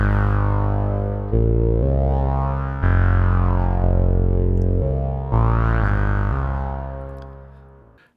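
Doepfer A-111-6 miniature synthesizer voice playing slow sustained notes with a long attack, rich buzzy harmonics swelling in and sliding in pitch, each tone fading gradually, heard alone with no talk.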